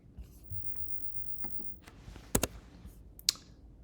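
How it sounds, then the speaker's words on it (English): A few quiet, sharp right-button computer mouse clicks sound close up against a hushed room, two of them sharper and louder than the rest, spaced irregularly. "I'm going to do a right mouse click"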